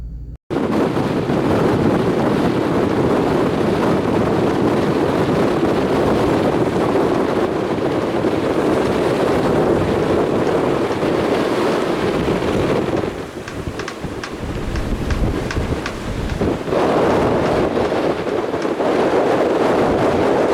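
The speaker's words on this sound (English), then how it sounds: "experiencing 32 to 35 knot winds on anchor" Strong 32 to 35 knot wind roars steadily against the microphone on a sailboat anchored at Cumberland Island Sound, with water sloshing and waves slapping the hull throughout, loud and continuous.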